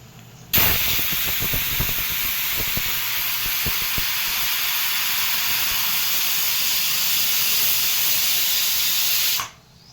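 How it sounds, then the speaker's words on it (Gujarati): A pressure cooker cooking bottle gourd and lentil curry lets off its whistle: a loud, steady rush of steam that bursts in abruptly, holds for about nine seconds and then cuts off sharply. "જો એક સીટી થઈ ગઈ છે"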